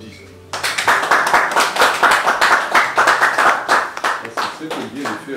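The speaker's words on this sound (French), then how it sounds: "Ça s'applaudit." Guests at a dowry ceremony break into a steady round of brisk hand clapping that starts abruptly and continues at close range, with voices audible underneath.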